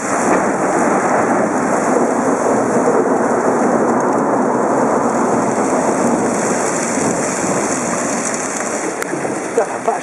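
Heavy rain pours down in a dense, unbroken hiss during a storm in Chile, loud and close for the whole stretch, with a low rumble of thunder blended underneath.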